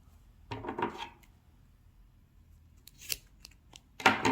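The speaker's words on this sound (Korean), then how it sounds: "끝과 끝이 또 마주 잡고 또 반을 한 번 더 잘라줍니다" Scissors snip through macrame cord in a few crisp, close cuts separated by short pauses, quiet and clear against a silent background.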